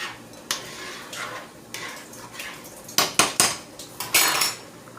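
A metal pot lid and cookware clank on a stovetop pot of rice while broccoli cooks, sharp clattering knocks in uneven bursts, close and fairly loud with no talk.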